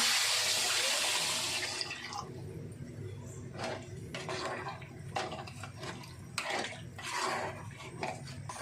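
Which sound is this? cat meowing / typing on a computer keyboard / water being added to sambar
water being added to sambar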